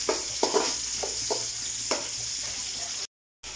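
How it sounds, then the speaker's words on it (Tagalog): Onion, garlic and ginger sauté in a pan for arroz caldo, a constant hissing sizzle with several sharp scraping stirs, then a brief cut to silence near the end. "igigisa na ngayon yung mga ingredients. Yan, sibuyas, bawang."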